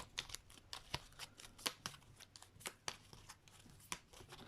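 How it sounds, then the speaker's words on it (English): Small tarot cards are shuffled by hand in a run of light, crisp riffling snaps and flicks, quiet and irregular, with short pauses between bursts. "Cannot shuffle these little cards."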